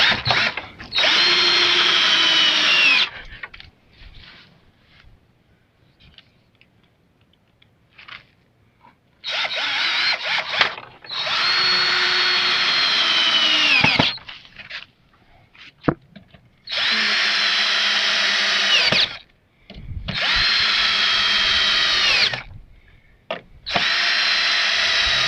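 A power drill drives a pocket screw into wood in several long bursts of whirring, separated by quiet pauses with faint handling noises, close and loud.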